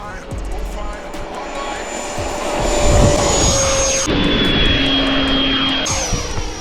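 A radio-controlled model jet airplane flies at about three-quarter throttle, giving a steady loud engine whine with a pitch that shifts as it passes, while someone talks over it.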